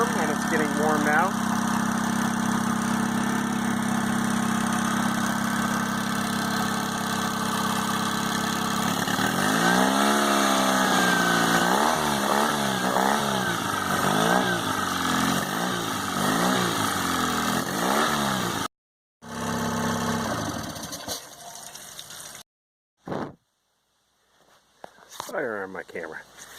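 A small four-stroke outboard motor idles steadily and loudly, its pitch wavering and surging midway, then cutting in and out toward the end.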